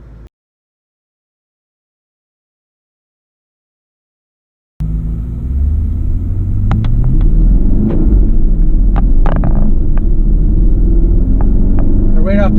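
Porsche Panamera Turbo S E-Hybrid Sport Turismo pulling away in Sport Plus mode, a steady low drivetrain rumble and road hum building after several seconds of silence, with a few faint clicks above.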